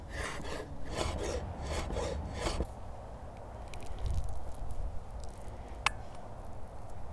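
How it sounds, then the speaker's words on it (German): A sharp knife finely slices pitted dates on a board with quick, rhythmic cutting strokes for a few seconds, then quieter scraping and one small tap follow. "Schnappe ich mir ein schönes scharfes Messer und schneide die ganz fein."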